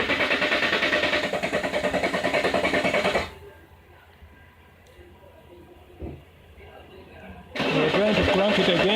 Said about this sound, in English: We're trying to crank it again. You can hear the hard start.